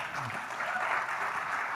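An audience applauding for a speaker at an interview event, a sustained, steady roar of clapping from many hands that holds at an even level throughout with no voices over it.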